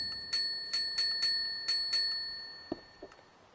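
A service bell used as a signal, struck six times in a quick, slightly uneven run of bright pinging dings that overlap as they ring, then a few soft thumps as it is set down; close, no voices.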